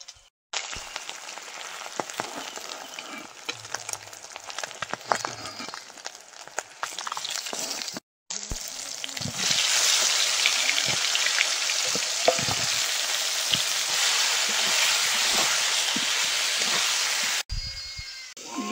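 Eggplant fries in a hot pan with a continuous, close-up sizzle and crackle that drops out briefly twice and returns louder; there is no talking.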